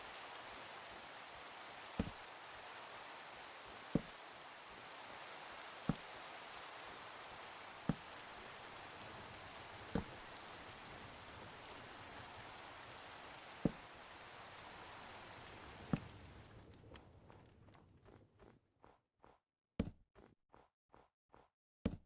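Steady hiss of rain falling in the Minecraft world, even and moderately loud, with faint periodic clicks, cutting off abruptly near the end into a series of sharp separate ticks.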